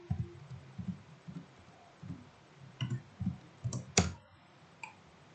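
Password keys tapped on a computer keyboard, a short burst of soft, close clicks in an uneven rhythm followed by a few sharper taps near the end.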